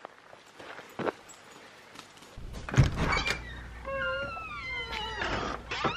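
A cat meows a few times outdoors on a farm in the rain, with steady rain noise and scattered footsteps or thumps nearby.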